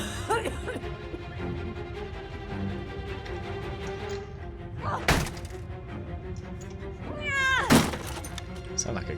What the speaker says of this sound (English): Sound like a cat.